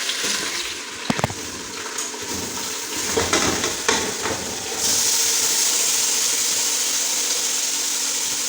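Keema and chopped onions sizzling in mustard oil in a pan, a steady close hiss and crackle that swells louder midway as the meat goes in, with brief clatters of utensils early on.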